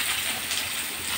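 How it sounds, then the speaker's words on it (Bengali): Water pours steadily into a pan of ridge gourd on a home stove, a continuous close rushing splash with no pauses and no talk. "জল ভরে দিলাম ঝিঙে"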